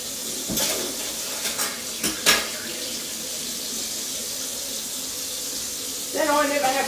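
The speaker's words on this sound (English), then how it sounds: "soapy dishes under warm water, rinse off my soapy gloves and put the clean dishes in the dish rack" Soapy dishes being rinsed under warm running water in a kitchen sink, with a steady tap stream throughout, a few sharp clinks of dishware near the start and a brighter splash of water at the end.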